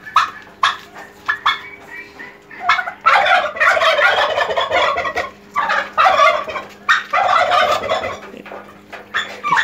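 Turkeys weighing 12 to 15 kg gobble loudly and repeatedly on a turkey farm, with bursts of overlapping calls, while a dog barks nearby in between.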